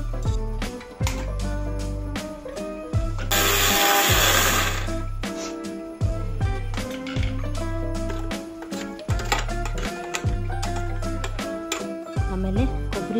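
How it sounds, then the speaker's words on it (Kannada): Mixer grinder running loudly in long steady bursts as it powders dry-roasted ingredients for huli avalakki, with stop-start pauses between runs and a brief harsher grinding surge partway through; no voices. "ಇದು ಹುರಿದಿಟ್ಕೊಂಡಿರೋದನ್ನೆಲ್ಲ ಮಿಕ್ಸಿಗೆ ಹಾಕ್ಕೊಂಡು ಪೌಡ್ರ್ ಮಾಡ್ಕೊಬೇಕು."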